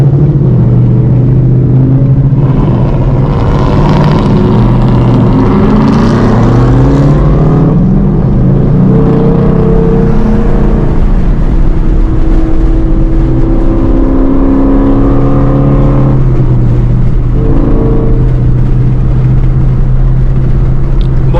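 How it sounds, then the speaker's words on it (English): A Ford Mustang with an MT82 manual transmission roars along the road, its engine droning loud and close, rising and falling in pitch through acceleration and shifts over a constant rumbling drive. "People may say the MT82s aren't good, but holy smokes, do they sound good."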